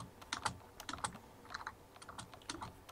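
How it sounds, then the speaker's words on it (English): Rapid tapping on a broken computer keyboard during a Minecraft session, with irregular bursts of clicky keystrokes close to the mic and no voices. "We see our broken keyboards just tapping away."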